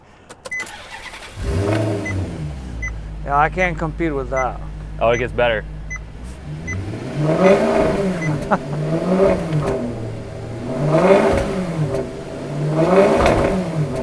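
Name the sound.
hand-built Ferrari V8 engine starting and revving in sport sedan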